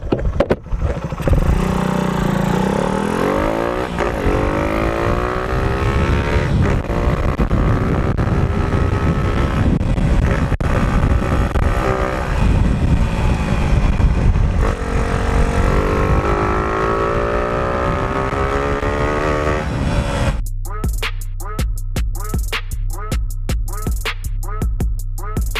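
A Yamaha Raider 150 motorcycle fitted with a UMA 28mm flat carburetor runs close by, its engine droning steadily with rising and falling revs and wind buffeting the microphone, then breaking into a rapid rhythmic pulsing near the end.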